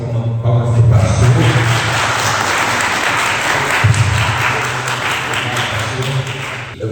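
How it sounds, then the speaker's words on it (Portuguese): An audience at an in-person financial organization meeting applauds a pastor in a sustained, dense round of clapping lasting several seconds, with some voices mixed in near the start. "uma salva de palmas para o pastor"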